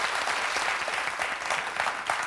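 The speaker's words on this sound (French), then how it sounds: "Regardez les applaudissements de tout le monde." A large audience at a Francophonie event applauds, with steady dense clapping sustained throughout, loud and close, with no voices standing out.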